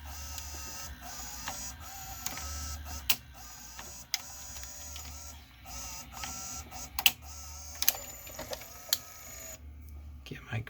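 Emerson VCR765 video recorder from around 1990 ejecting a tape, with a run of mechanical whirring and clicks and several sharp clacks as the cassette mechanism moves, close up in a quiet room.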